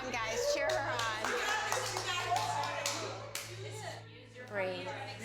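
A group claps and cheers to encourage a woman through a fear challenge, with steady close applause mixed with excited voices throughout.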